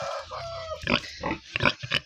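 A pig grunts and snorts close by in a farmyard, a series of short rough bursts with a brief squeal-like tone near the start, heard alone without talk.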